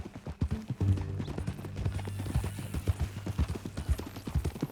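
Horse hooves clip-clop at a steady walking rhythm in the Red Dead Redemption 2 video game, close and clear, with a low hum beneath.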